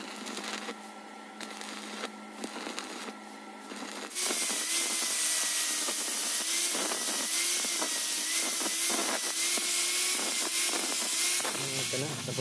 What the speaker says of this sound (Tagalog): Ayan, grinder ko siya, no, ang buffing machine.